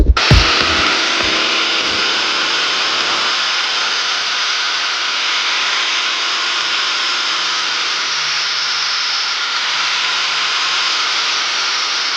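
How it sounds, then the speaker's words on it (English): An angle grinder slices through a Dash 10 AN hose, opening with a few brief clatters and then settling into one steady, loud, high-pitched whine that holds evenly for several seconds, with no talk over it. "let's grab the angle grinder, slice this down here"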